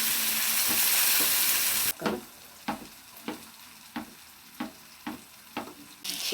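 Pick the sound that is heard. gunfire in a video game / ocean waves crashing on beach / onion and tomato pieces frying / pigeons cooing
onion and tomato pieces frying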